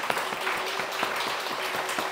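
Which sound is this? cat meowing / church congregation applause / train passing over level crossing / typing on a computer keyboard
church congregation applause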